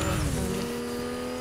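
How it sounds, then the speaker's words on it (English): A car driving in Fortnite, its engine holding a steady, loud, continuous tone with a faint tire-squeal edge, with no voices over it. "Alright, I have a car. I'm driving to you."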